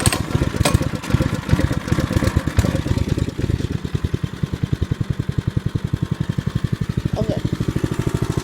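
Small mini bike engine running on a residential street, a loud, steady rapid putter close by that stays rhythmic throughout, with a brief spoken word over it early on.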